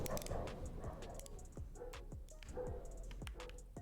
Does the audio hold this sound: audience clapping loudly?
no